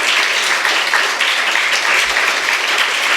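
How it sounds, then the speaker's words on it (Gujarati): Sighted children clap together at a Bhavnagar under-15 rapid chess tournament for blind and open players, a dense, steady burst of applause filling the room without a break. "નોર્મલ બાળકો તાળીઓ પાડો, માત્ર બાળકો, વાલી નહીં."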